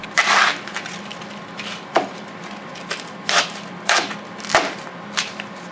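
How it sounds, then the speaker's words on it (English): A Benchmade 375 Adamas knife slices through a piece of packaging film with a series of sharp, close cracking and tearing snaps spaced about a second apart, each one brief and crisp. "we'll slice through a piece of packaging film"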